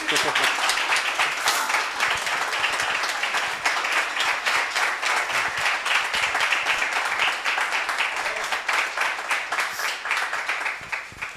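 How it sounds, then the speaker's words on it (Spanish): Applause from the audience at a live podcast recording during an impact event, sustained, dense clapping running throughout with a few voices faintly underneath. "Claro que se puede aplaudir."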